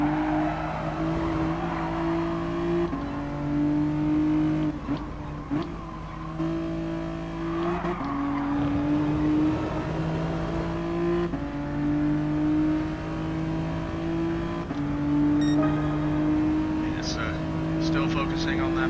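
Race car engines rev at Goodwood in a racing game, several cars droning and shifting through gears in repeated rising pitch sweeps, loud and continuous, with race commentary spoken over them.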